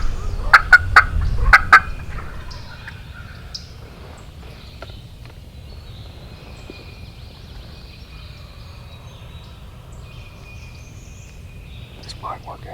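Wild turkey hens call in a Mississippi hunting setting, a few sharp yelps clustered near the start, then faint scattered calls over quiet outdoor background.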